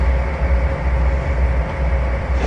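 A unit train made up only of intermodal cars rolls along in the Trainz 2019 railroad simulator, a loud, steady low rumble with a constant rolling drone and no voices.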